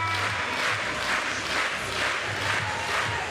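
Couple thousand 3x3 basketball fans clapping in an arena, a steady rhythmic wash of applause and crowd noise that fills the space evenly throughout.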